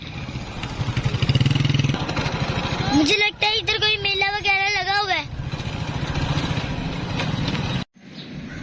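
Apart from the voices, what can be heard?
motorcycle riding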